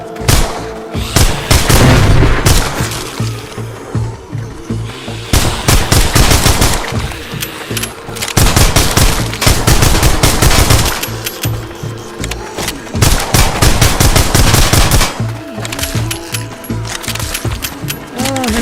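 Loud, steady bursts of automatic gunfire ring out while shooting zombies in a PICO 4 virtual reality game, the shots layered with a continuous low game soundtrack.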